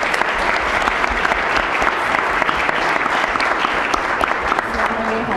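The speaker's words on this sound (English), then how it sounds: "Round of applause" Dense, sustained applause from a large audience at the 2011 Sustainable Saint Paul Awards ceremony, steady and loud across the whole stretch with no break.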